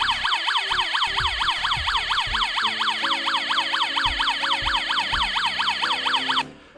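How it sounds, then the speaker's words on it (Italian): A Disney toy fire engine's electronic siren wails in a fast, steady up-and-down sweep, loud and close, with clicking mechanical noises underneath, then cuts off abruptly at the end. "Abbiamo visto che la sirena funziona veramente?"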